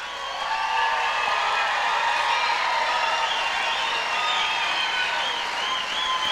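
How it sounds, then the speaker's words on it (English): An awards ceremony audience applauds to welcome performers: a steady, dense wash of clapping that swells in and holds for several seconds, with whoops and cheers riding over it. "give them a rousing welcome and an applaud"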